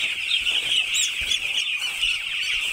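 Six-day-old broiler chicks on a poultry farm keep up a dense, continuous chorus of high, shrill peeping, close and loud, with no talk.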